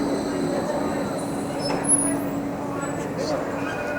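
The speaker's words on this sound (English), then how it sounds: "they're using newer trams these days, like the one that's about to pass me now" Newer Melbourne tram on route 96 rolling past in a city street, a steady rumbling drone with faint metallic squeals and hum, moderately close, under traffic ambience and possible talk.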